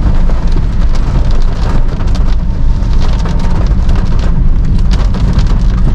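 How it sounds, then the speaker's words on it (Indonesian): Heavy rain drums loudly and continuously on the body of a moving 2019 Toyota Calya, a dense, close wash of pattering with no break across the whole stretch. "Suaranya itu rame ya kalau hujan ya."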